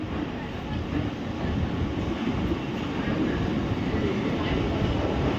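The Kolkata–Puri special train pulling out of Kolkata station gives a soft, continuous rolling rumble from inside the carriage, steady and fairly faint throughout.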